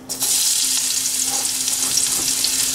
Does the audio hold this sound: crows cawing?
no